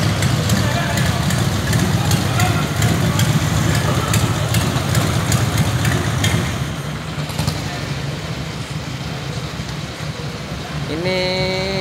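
Roughly thirty to forty motorcycles idle together at a community ride gathering, a dense, steady engine rumble that eases slightly near the end as a tone rises.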